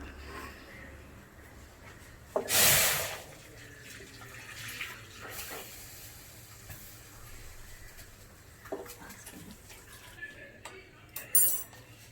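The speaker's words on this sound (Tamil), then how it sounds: "இதில் வந்து ஃபஸ்ட்டு கொஞ்சம் லேசாக சூடான தண்ணி ஊற்றிடலாம்." Warm water is poured into a heated kadai while making ghee rava pongal, giving a brief loud splashing pour followed by quieter clinks of utensils and a few later kitchen knocks.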